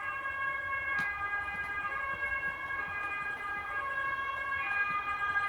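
An ambulance siren wails in steady, sustained tones at a distance, fairly faint over a low background rumble of traffic.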